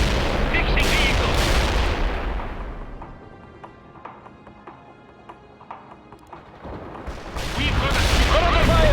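Gunfire and explosions in the war video game World in Conflict, with heavy dense bursts at the start, scattered distant shots and thuds in a quieter stretch, then loud firing again with a voice heard over it.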